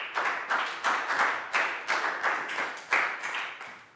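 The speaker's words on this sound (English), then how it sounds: "Big round of applause for Prau" A Year 4 class claps for a pupil during an English lesson, a bright, rhythmic run of roughly a dozen quick group claps, loud and close in a small room with no speech.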